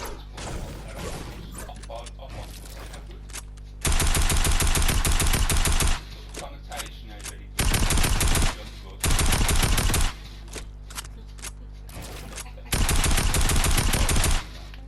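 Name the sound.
gunfire while shooting down in a video game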